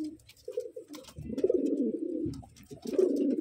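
A pigeon being packed by hand coos in repeated low, throaty bursts, close and fairly loud, with handling rustles in between.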